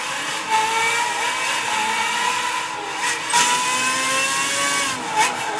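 F1 cars racing around the Nuremberg track in Gran Turismo 5, a continuous layered whine of several engines at high revs, with pitch sweeps as cars shift and pass, steady and fairly loud with no talking.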